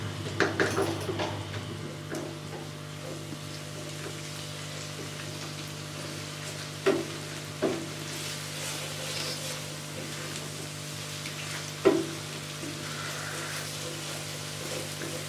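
Spices with red chilli are fried in a pan for fish curry while a spoon stirs them: a soft continuous sizzle with a few sharp metal spoon scrapes and clinks against the pan, and no voices.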